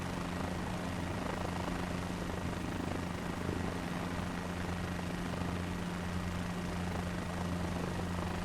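A helicopter flying in Microsoft Flight Simulator 2024, with a steady, continuous rotor and engine drone and a low hum that holds at an even level throughout, with no speech.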